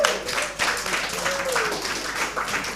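An audience applauds young contestants at a spelling bee competition, a steady crowd clapping that holds at an even level for a few seconds with a faint voice over it.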